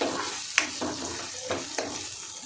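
Spices are sautéed in butter in a pan for pav bhaji, giving a soft sizzle broken by a few sharp spatula scrapes and taps, close and quiet.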